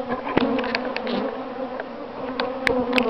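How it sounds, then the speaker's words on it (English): Honeybees hum steadily around hives in a grafting bee yard, a dense close buzz with individual bees flying past now and then. "here we are at the bee yard"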